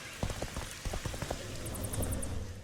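Rain in The Witcher 2 video game pattering steadily, with irregular clopping hoof-like knocks early on and a brief high rapid ticking near the end.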